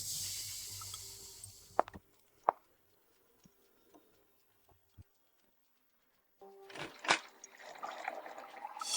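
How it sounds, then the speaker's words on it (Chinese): Water poured out for a guest indoors: after a quiet stretch broken by a few faint clicks, a steady splashing rush rises and carries through the last few seconds. "我去给您倒水"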